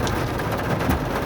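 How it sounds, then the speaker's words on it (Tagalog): Heavy rain pouring down in a steady dense hiss with low rumbling underneath, close and continuous, no voices. "Grabe, malakas ang ulan."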